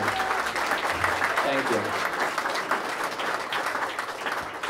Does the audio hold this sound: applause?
yes